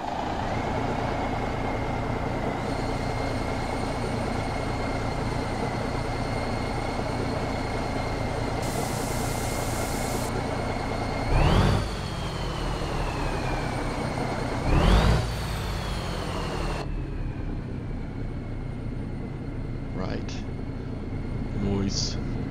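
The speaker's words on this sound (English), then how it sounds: "we are rocking Cyril Black's Cummins 855 NTE engine" A Cummins 855 NTE diesel truck engine drones steadily throughout, with a couple of brief louder bursts and a faint whine, as people talk over it.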